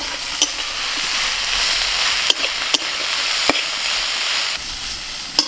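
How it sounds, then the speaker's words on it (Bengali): Potatoes and susuni greens fry in a pan with a constant close sizzle, broken by a few sharp clicks as a spatula stirs and scrapes the pan. "তারপর শাকের সাথে ভাজতে ভাজতে আলুটা পুরোপুরি সিদ্ধ হয়ে যাবে।"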